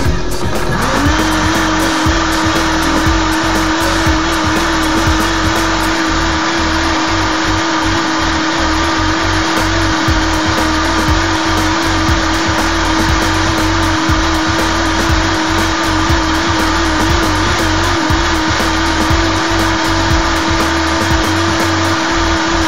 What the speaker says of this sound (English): Now we're going to start blending the cycle on a 30-second cycle.